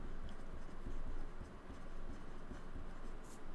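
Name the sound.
writing out calculations by hand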